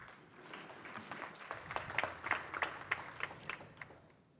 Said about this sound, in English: We can clap for ourselves.